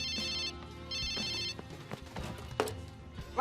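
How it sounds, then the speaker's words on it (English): A telephone rings in two short trilling bursts, fairly faint, followed by scattered knocks and clatter of handling. "Chase asks to use the phone and calls the lounge"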